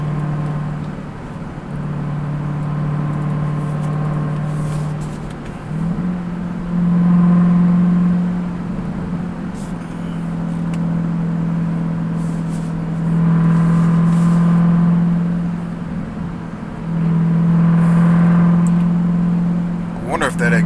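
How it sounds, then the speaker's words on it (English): A 2021 Dodge Durango Hellcat exhaust drones steadily while cruising, with a low rumble that swells louder in several surges of acceleration, and someone talks over it throughout. "If that exhaust is picking up really good on the video"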